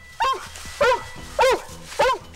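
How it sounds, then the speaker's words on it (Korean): A fire department search-and-rescue dog barks four times in an even rhythm at a found person during a search drill, each bark sharp, close and distinct against a quiet outdoor background. "사람을 발견하면 짖어서 신호를 보낸답니다."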